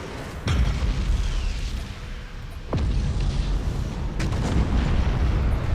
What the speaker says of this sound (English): our flagship got hit by torpedoes